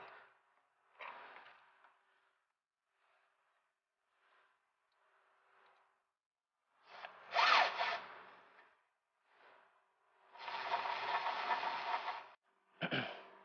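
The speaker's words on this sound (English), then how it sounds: "we can go ahead and finally clamp this one on." Intercooler charge piping is worked onto its fitting and clamped during an aftermarket intercooler install, with scattered rubbing and scraping of rubber and metal, a couple of louder sustained scuffs near the end, and quiet gaps between, and no one talks.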